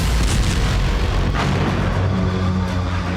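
A deep, rumbling boom rolls through over several seconds, heavy low-end thunder like a distant explosion from Russian missile and drone strikes on Kyiv, with a sharper burst partway through.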